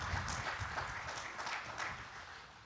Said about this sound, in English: So let's give Eric a round of applause